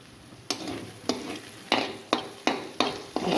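Onion and tomato frying in a pan, stirred in a steady rhythm that gives about seven scraping sweeps over a continuous close sizzle, with no voices.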